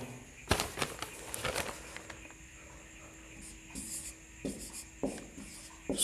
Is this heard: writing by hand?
yes